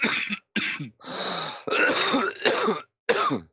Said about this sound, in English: Dude, you don't have to cough in our ear.